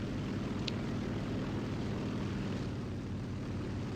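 SBD-3 Dauntless propeller plane engine in War Thunder, a steady loud droning roar filling the whole stretch without letting up.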